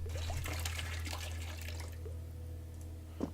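Liquid poured in the Lumino City puzzle game, a soft watery trickle and drip running under a steady low hum, with a few small chiming tones.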